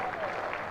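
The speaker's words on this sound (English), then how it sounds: "The crowd standing in the Mickey Stewart members' pavilion and applauding as Rory Burns leaves his team off" A cricket crowd standing in the members' pavilion at a County Championship match at the Oval, applauding steadily as a departing team leaves the field; dense, continuous clapping heard at a moderate distance.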